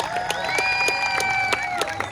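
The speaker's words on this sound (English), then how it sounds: "Could you give them a round of applause, please?" Audience clapping at a school strings concert, rhythmic claps punctuating a sustained held musical tone, moderately loud in a hall.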